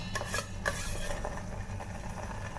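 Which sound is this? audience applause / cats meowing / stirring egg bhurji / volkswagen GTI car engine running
stirring egg bhurji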